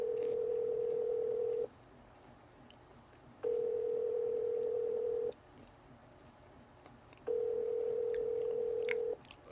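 A phone call ringing out on the line: a steady ringback tone plays in three long pulses separated by equal pauses, clear and close, with no voices.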